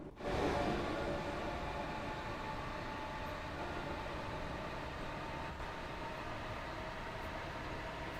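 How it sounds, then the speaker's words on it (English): A Class 377 electric train rolling past in Train Sim World 2, arriving with a sharp onset then a steady, close rumbling roar of wheels and motors sustained throughout. "We have a 377 coming down the line."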